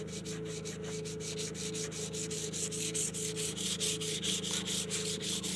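Guitar frets are sanded with fine 600-grit sandpaper in quick, rhythmic back-and-forth rubbing strokes, close and fairly quiet, with a steady low hum underneath.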